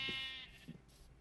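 Sheep bleating in the Minecraft modpack SevTech Ages, one short, faint, reedy bleat alone with no talk.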